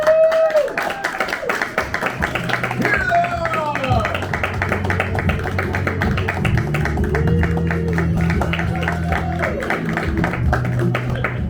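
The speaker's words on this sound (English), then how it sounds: "Give a round of applause for your Instant Classic players" Audience at a live theatre performance claps for the Instant Classic players, brisk crowd clapping with whoops running under a speaker's voice and background music throughout.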